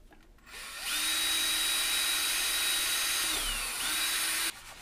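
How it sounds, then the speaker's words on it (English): A power drill bores a rivet hole through plastic airframe tubing for a 4-inch rocket build, a steady high whine running for several seconds close by, with a brief dip in pitch near the end before it resumes and cuts off. "So we're going to go ahead and drill one of them."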